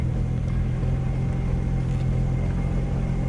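Steady low engine and road rumble from inside a car driving along a rural road near Rancogne, France, constant and moderately loud with no talking.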